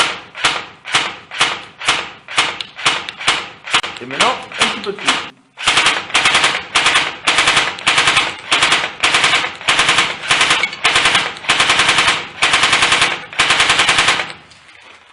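An airsoft submachine gun fires a string of evenly spaced single shots. After someone speaks briefly, it switches to rapid clattering bursts, loud and close.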